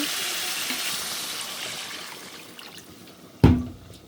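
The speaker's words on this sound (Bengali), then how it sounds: "মাছের পানি দিয়ে দিলাম" Water is poured into a pan of fish curry whose spices are frying, giving a steady hiss. A sharp splash and burst of sizzle come near the end.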